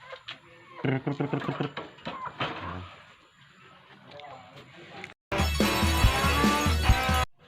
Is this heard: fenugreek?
no